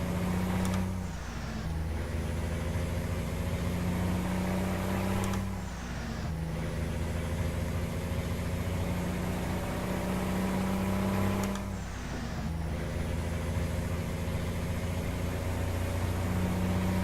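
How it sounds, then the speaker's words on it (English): Jake brake on a custom Peterbilt 389 truck in American Truck Simulator, a loud close engine drone with rhythmic low pulses, broken by three brief whooshing air bursts spaced several seconds apart, no talking. "I love listening to that Jake brake"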